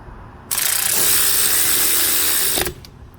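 A ratchet tightens brake caliper bolts on a 2010-2014 Subaru Outback, giving one steady, loud run of rapid clicking that lasts about two seconds, close by and with no talk over it.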